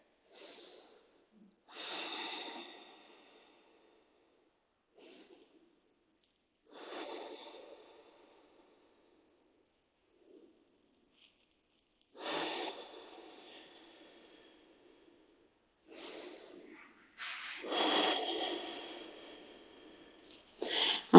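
Slow, deliberate breaths during a Hatha yoga pose, five or so drawn-out inhales and exhales spaced by quiet pauses, close and soft, with a few louder, rougher exhalations toward the end.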